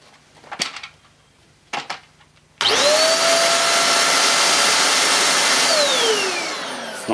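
A Bissell Featherweight Pro 2 in 1 vacuum cleaner switches on after a couple of faint clicks, then holds a steady loud high whine and airflow rush that softens slightly near the end.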